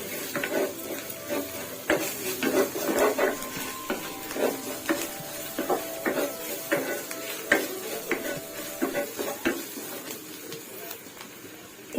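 Turmeric and Kashmiri red chilli powder being stirred into hot oil in a pan: irregular scraping strokes of a spoon over a steady sizzle, close and continuous.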